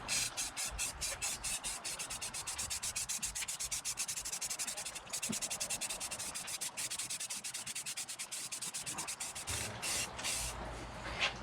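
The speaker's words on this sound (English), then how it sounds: "Gonna take some white flat paint, just do a light dusting, and maybe we'll sand some off" White flat paint sprayed as a light dusting onto a carved wooden fence board, a close, hissing spray broken into rapid pulsing bursts that run the whole time.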